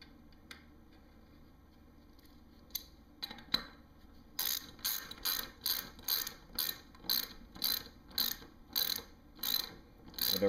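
A nut being tightened back onto a skateboard wheel axle with a ratcheting tool: after a few scattered clicks, a steady series of about a dozen crisp, evenly spaced ratchet clicks starts midway, close and clear, with no talking.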